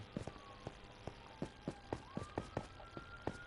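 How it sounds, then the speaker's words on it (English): Faint, distant emergency sirens wailing in a small town, a thin rising tone far in the background beneath a steady rhythm of close, soft footstep-like taps. "Small town, but sirens been going off like crazy today."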